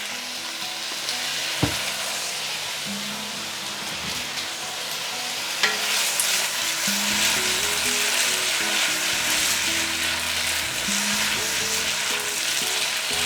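Flat rice noodles stir-fried with dark and light soy sauce in a wok over medium-high heat, giving a steady close sizzle with scraping stirs and a couple of sharp clanks.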